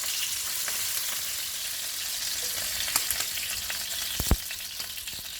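Sous vide burger patties searing in a hot pan give off a steady, dense sizzle, near and unbroken, with a few faint clicks and one sharper knock near the end.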